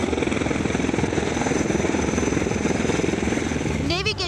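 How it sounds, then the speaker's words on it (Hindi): A navy rescue helicopter gives off a loud, steady rotor rumble with a rapid chopping texture that runs unbroken for the whole stretch, fading slightly at the very end. "सुबह जब इस हेलीकॉप्टर की गड़गड़ाहट सुनाई दी"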